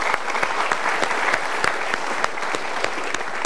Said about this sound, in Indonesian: Kita berikan tepuk tangan juga.